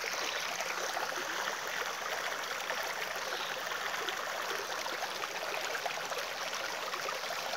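A forest stream lined with flowering shrubs flows with a steady, broadband rushing and babbling wash, even and continuous throughout, with no voices.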